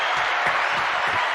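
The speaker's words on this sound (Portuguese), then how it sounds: "Põe palmas aí, por favor." Dense applause from a crowd in a studio setting, a steady wash of many hands clapping with no breaks across the short stretch.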